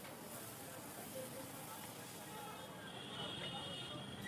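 Masala dosa batter made from lentils and rice sizzles on a hot pan, a steady, fairly quiet broadband hiss that continues unbroken.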